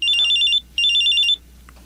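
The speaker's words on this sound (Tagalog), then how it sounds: "Nag-ring yung cellphone ko." A cellphone rings nearby in two loud, rapid electronic trills, each about half a second long, separated by a short pause, then goes quiet, with no talk over it.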